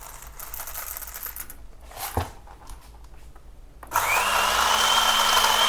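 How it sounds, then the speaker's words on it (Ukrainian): A Delonghi Magnifica Smart coffee machine's grinder, set to its finest grind: a quiet mechanical hum and a sharp click give way to a loud, steady whirring grind with a high whine that runs to the end. "О, оце нормальний звук вже роботи кавомолки, нормальна швидкість."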